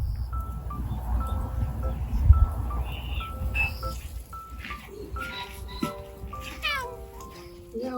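A pregnant stray cat meows repeatedly close by, its rising and falling cries clustering toward the end over a low background rumble.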